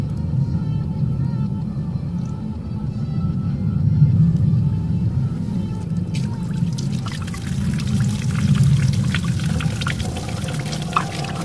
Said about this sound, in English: Okay, so we're just going to start right off the bat with a back flush.